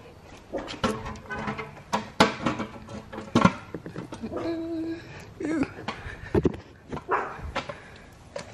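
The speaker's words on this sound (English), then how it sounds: "who are you barking at?" A dog barks repeatedly at close range in a home setting, sharp irregular barks mixed with a few yips and whines, while a person speaks nearby.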